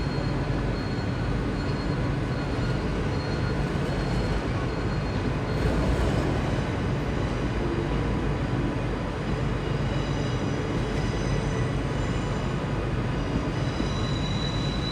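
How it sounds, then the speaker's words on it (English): A Pendolino train leaves Glasgow Central for Euston, its wheels and motors giving a continuous rolling rumble with high squeals and hums, fairly close and steady throughout, no talking. "There goes the Pendolino to Euston"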